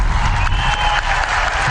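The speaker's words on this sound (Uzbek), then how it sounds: "Olqishlab turamiz azizlar, olqishlab." Audience at a concert award ceremony applauds, a dense continuous wash of clapping from a large crowd held steady and fairly close, with a faint voice underneath.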